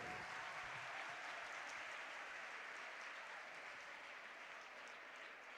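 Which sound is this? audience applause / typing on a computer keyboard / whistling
audience applause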